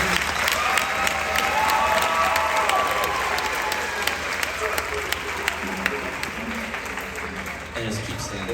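Sustained audience applause fills a high school band concert hall, steady clapping from a large crowd with some cheering, fading slightly toward the end while a voice speaks over it.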